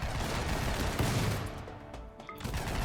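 Dense overlapping gunfire from a firefight in RimWorld, a continuous crackle of many shots that thins out toward the end, heard alone without talk.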